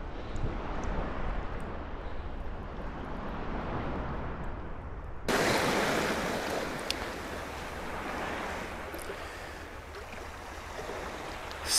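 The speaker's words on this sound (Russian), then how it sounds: "Вот под берегом только вот небольшая волнишка" Small, gentle sea waves wash steadily onto a sandy shore at low tide on a calm, nearly windless sea, a continuous soft broadband rush with no one speaking.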